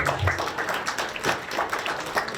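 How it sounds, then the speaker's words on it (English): An audience at a stand-up comedy show applauds the comedian, a steady wash of clapping that lasts through the whole moment at moderate loudness, with faint voices mixed in. "Can I get a little applause for that?"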